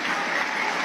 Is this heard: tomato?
no